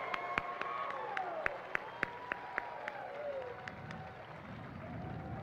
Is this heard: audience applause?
yes